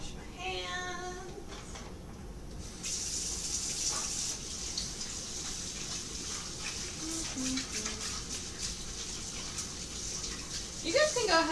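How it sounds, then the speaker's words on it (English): Running tap water from a kitchen faucet pours steadily while hands are washed in a home kitchen, with people talking over the stream throughout. "Wash my hands."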